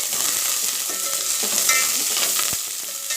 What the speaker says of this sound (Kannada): ಈಗ ಬೆಳ್ಳುಳ್ಳಿ ಸೇರಿಸ್ಕೊತೀನಿ ಈಗ ಮತ್ತು ಈರುಳ್ಳಿ ಕರಿಬೇವು ಬಾಳಿಗೆ ಮೆಣಸು ಸೇರಿಸಿದಲ್ಲ ಅದನ್ನ ಆ್ಯಡ್ ಮಾಡ್ಕೊತೀನಿ ಇದೊಂದು ಸತಿ ಚೆನ್ನಾಗಿ ಮಿಕ್ಸ್ ಮಾಡ್ಕೊಂಡು